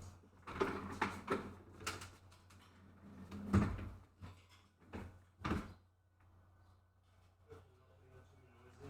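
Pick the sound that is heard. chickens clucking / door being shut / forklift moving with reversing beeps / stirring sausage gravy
door being shut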